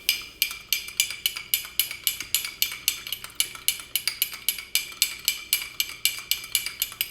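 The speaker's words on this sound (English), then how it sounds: "And now we're gonna stir this." A spoon stirring salt into a container of water to dissolve it, with steady rhythmic clinks and scrapes against the sides, about three per second and fairly close, with no voices.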